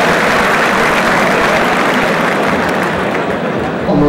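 Dense crowd applause at a 1997 KNPV dog obedience and bitework trial, a loud continuous wash of clapping from a large audience, sustained evenly throughout.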